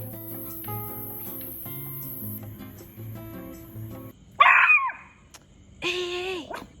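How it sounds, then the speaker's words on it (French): A dog barks and yelps a couple of times close by after a stretch of faint background music, its sharp cries loud and abrupt. "C'est pas l'heure d'aboyer là"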